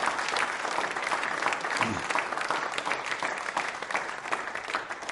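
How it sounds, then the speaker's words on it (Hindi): An audience at a quiz show on India's Constitution claps steadily and fairly loudly for the whole stretch, a dense wash of hands without pause. "तालियां सम्मान के लिए बजाइए जोरदार तरीके से उनके लिए आप"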